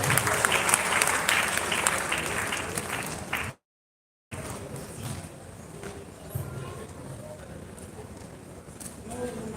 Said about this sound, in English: Let's keep clapping as our mommy makes our way